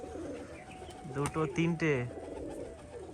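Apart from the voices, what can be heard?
pigeons cooing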